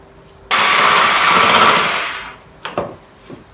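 An electric mixer whisks pancake batter with flour in a bowl, switching on with a loud steady whir that runs about a second and a half, then winds down, followed by a few short bursts.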